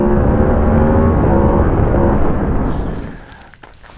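A 2022 Yamaha MT-10 SP's crossplane four-cylinder engine roars loud and close, a thick steady drone that fades away near the end, followed by a brief sharp sound.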